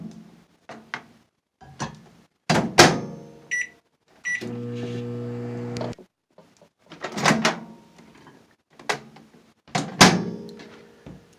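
A microwave oven melting rebatch soap gives a steady mechanical hum for a couple of seconds, with clicks, clunks and beeps from the door and controls before and after.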